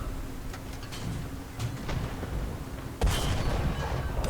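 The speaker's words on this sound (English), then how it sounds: "Anti-tank gun. Self-propelled AT gun." A self-propelled anti-tank gun fires in War Thunder during a tank battle, with one sharp, loud cannon report near the end over steady rumbling engine and battlefield noise.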